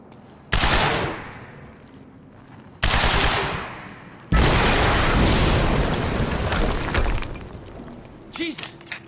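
Video game gunfire in Quantum Break, aimed at explosive barrels: three sudden loud blasts of shooting and explosion, each trailing into a roaring rumble, with the last burst sustained before fading into scattered smaller sounds.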